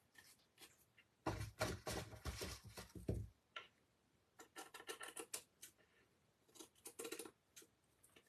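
Scissors snip and trim decoupage pieces, with a dense run of close, rapid cuts followed by shorter, scattered snips and soft paper rustles.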